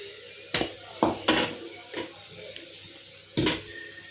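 Ground urad dal powder tipped into a metal kadai, sharp metallic clinks and knocks of pan and utensil striking a few times, close and crisp against a quiet background.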